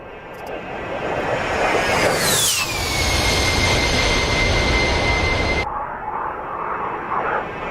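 A jet aircraft in DCS World sweeps past in a loud, continuous roar, its whine bending downward in pitch as it passes, then the sound cuts off abruptly and leaves a quieter engine hum.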